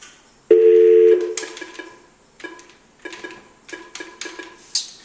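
A steady dial tone on a Nortel phone system gives way to a series of dialing tones and clicks, close and clear with no talking.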